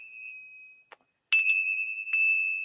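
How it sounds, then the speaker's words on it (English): Small Tibetan chimes inscribed with Tibetan symbols ring close by: a sustained bright tone, a pause, then two fresh strikes that ring on clearly and keep resonating. "these are little chimes,"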